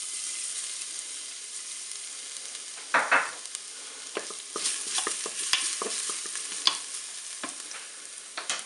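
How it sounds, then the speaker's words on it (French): Garlic frying in hot olive oil inside a Cookeo electric pressure cooker pot, a steady crackling sizzle with a sudden louder burst and then scattered spatula stirs and pops. "Mon huile est chaude, je vais mettre l'ail dans la cuve."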